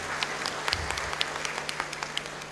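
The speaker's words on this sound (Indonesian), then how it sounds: "Aplaus untuk panitia." An audience at a YPM corporate culture gathering applauds the organizing committee, with scattered hand claps forming a light, steady round of clapping heard up close.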